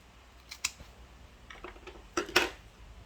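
Scissors snipping through a satay stick, several sharp close clicks and crunches arriving in two small bursts, with no one speaking.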